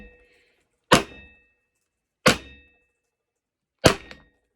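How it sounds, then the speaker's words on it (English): Three sharp, hard knocks from a Berry's Superior inertia bullet puller being struck to free a bullet from a reloaded cartridge, spaced about 1.5 seconds apart, each a loud close impact with a short ringing tail and silence between. "with the bullet in place, all you have to do is give it several sharp strikes"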